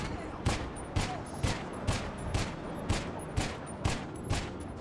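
Ten evenly spaced WM 29 pistol shots fired without a suppressor in GTA Online, each a sharp crack with a short tail, roughly two per second in a steady rhythm over faint background hum.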